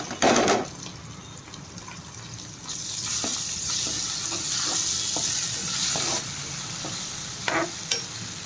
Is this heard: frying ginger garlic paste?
yes